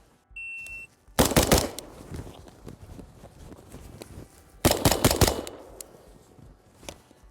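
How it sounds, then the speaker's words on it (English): Rifle fired at steel targets through a Vortex AMG 1-10x24 scope, with two tight bursts of three loud, close cracks a few seconds apart, light movement and footsteps in between, and a short electronic beep at the start. "I'm gonna do 3 rounds on this target, then I'll retreat and shoot 3 rounds on the other one."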